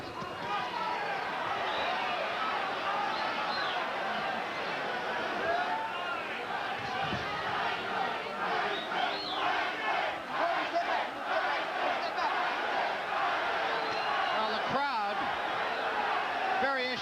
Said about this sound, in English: Well, they are yelling Tyson, Tyson.